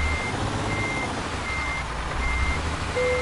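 A heavy truck engine in Euro Truck Simulator drones steadily and loudly, with a repeating reversing beep sounding at regular intervals over the rumble.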